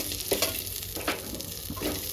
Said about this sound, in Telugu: చూడండి ఫ్రై అయిన ఉల్లిగడ్డలు మరీ ఎక్కువగా ఫ్రై చేసుకోకూడదు